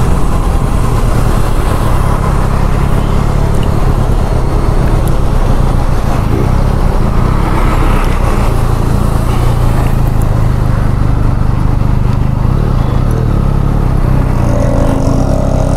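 A Benelli Leoncino 500 motorcycle on a test ride, its engine giving a steady, loud roar mixed with road and wind noise throughout, with no let-up.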